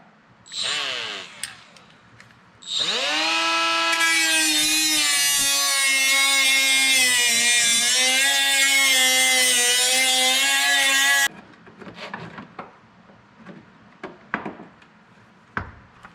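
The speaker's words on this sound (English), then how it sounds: "Does anybody know what it means when your Makita thing does that?" A Makita power tool, in use while a 1995 Peterbilt 362 cabover's windshield frame is being rebuilt, whirs briefly. It then runs for about eight seconds with a loud, steady, high-pitched whine, followed by scattered clanks and handling noises.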